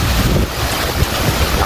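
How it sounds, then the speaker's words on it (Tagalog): Strong wind roars steadily in a storm with heavy rain and flooding in Cavite, the gusts buffeting the microphone with a deep, continuous rumble and no voices. "Lakas ng hangin, no?"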